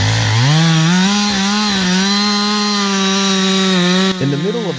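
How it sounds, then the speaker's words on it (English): A chainsaw cuts into a large tree trunk in a dense forest, a loud sustained high whining engine drone that holds steady then shifts pitch near the end, close and dominant. "a worker wearing protective gear and a hard hat was carefully using a chainsaw to cut into a large tree trunk"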